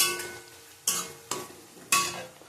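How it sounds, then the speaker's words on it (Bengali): Onions frying in a pan for a spiced yoghurt chicken dish sizzle steadily, broken by three sharp stirring scrapes, close and without speech. "পেঁয়াজও ভাজা হয়ে গেছে।"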